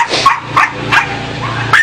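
Several dogs bark in quick, loud, close bursts, four sharp yaps spaced about half a second apart with brief gaps between them.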